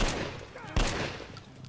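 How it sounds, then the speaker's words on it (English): Rapid gunfire from the video game Metro Last Light as a player shoots at monsters, a dense burst of shots with one sharp, loud crack partway through, heard under faint background noise. "I have to shoot them in their backside."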